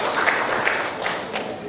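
An audience at the Air Cargo India 2016 event gives a round of applause: steady, dense clapping at moderate volume that continues without a break.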